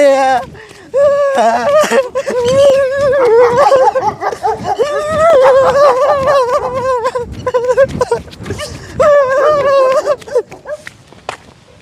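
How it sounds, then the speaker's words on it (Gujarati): A dog whines and yelps over and over at close range, high-pitched and insistent, with people's voices mixed in. "આ કૂતરું મને કરડી જશે"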